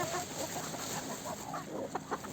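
Chickens cluck softly in short, scattered calls over a quiet background, with a couple of sharper clucks near the end.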